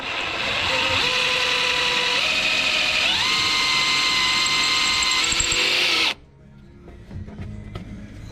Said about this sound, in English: we can go ahead and drill these holes